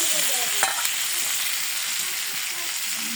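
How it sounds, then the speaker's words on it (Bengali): Katla fish fries in a pan with a steady, dense sizzle and crackle, close and continuous, with faint clinks and no talking. "মুরগি তরকারি নামায় মাছ ভাজা বসাই দিলাম"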